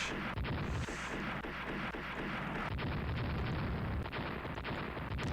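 A torpedo strike exploding against a ship in a naval strategy game set in the Austro-Hungarian navy era: a deep rumbling boom with rolling low crackle and a brief bright burst, sustained and fairly distant.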